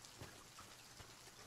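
Steady, faint rain patters indoors in the Silent Hill 2 Remake video game, an even wash of drops with a few slightly louder splashes and no voices.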